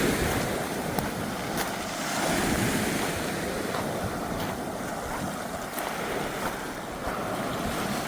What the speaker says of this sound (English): Sometimes it's a very violent ocean.